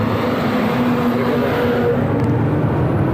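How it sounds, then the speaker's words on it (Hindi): A six-wheel truck drives at speed on a highway, giving a steady loud roar of engine and road rumble that holds constant throughout with no talk. "तो भाई देख रहे हो गाड़ी कितनी स्पीड से आ रही है।"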